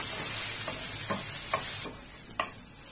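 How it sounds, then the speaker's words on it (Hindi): Coarsely pounded spices dry-roasting in a pan for a yogurt gravy, with a steady close sizzle and a few sharp spoon scrapes and taps spaced through it as they are stirred, and no voice. "अब इन सबको मैं एक मिनट के लिए भूनूंगी ताकि इनका कच्चापन निकल जाए"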